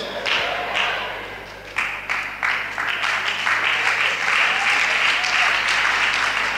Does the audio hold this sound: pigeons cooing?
no